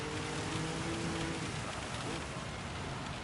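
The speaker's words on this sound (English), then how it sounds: "It's rain and in the dark." Rain in a racing video game at night, heard as a steady broadband hiss of falling rain that holds at an even level throughout, with a faint tonal engine-like hum underneath early on.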